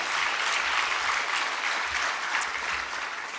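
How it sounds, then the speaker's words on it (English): An audience at the RT12 opening ceremony claps continuously, a dense, even wash of many hands that fades slightly toward the end, with no talking over it. "I know you're clapping for them"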